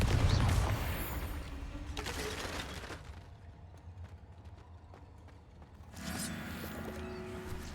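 Fiery Confringo spell blasts in Hogwarts Legacy: a loud crackling burst at the start, a quieter rattling stretch, then a second strong blast near the end.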